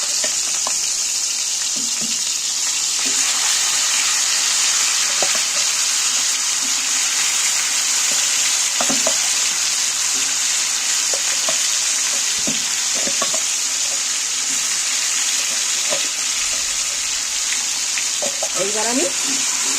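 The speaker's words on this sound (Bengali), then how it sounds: "মাংসটা আমি এই গরম তেলের মধ্যে তুলে দিচ্ছি" Chicken pieces fry in hot oil with bay leaves for biryani, a loud, steady hiss of sizzling fat with intermittent stirring knocks and spatula scrapes along the pan, no speech.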